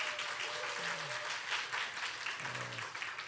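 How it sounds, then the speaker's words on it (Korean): Steady, fairly faint applause from a church congregation during a Sunday service, a soft continuous patter with a few low voices murmuring underneath. "우리 박수 한번 좀 보내주세요."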